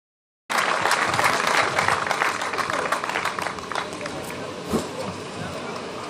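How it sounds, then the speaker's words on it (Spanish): Crowd applause at a hill-climb rally award ceremony in Vilar de Barrio, 2023: clapping starts abruptly and continues steadily, with crowd chatter mixed in and fading slightly toward the end. "Forte aplauso para eles."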